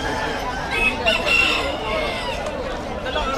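A fighting rooster crows at an outdoor pet market in Malabon, Philippines, over busy murmuring and ambient noise, its call rising and trailing off midway through.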